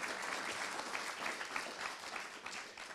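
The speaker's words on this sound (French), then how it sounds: "vous pouvez applaudir, il n'y a pas de souci" An audience applauds at a French sports event, a continuous wash of many hands clapping, steady and moderately distant.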